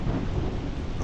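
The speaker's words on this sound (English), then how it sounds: "Hopefully this thunderstorm passes pretty soon so that I can kind of see where I'm going" Thunderstorm in a swamp area of a video game, a dense, loud wash of heavy rain and rolling thunder rumble that stays steady throughout, with no talk.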